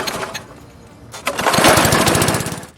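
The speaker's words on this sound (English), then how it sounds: "starting up a lawnmower" A lawnmower engine turns over with a brief sputter, pauses, then catches and roars up to a loud, steady running rumble with a choppy pulsing beat.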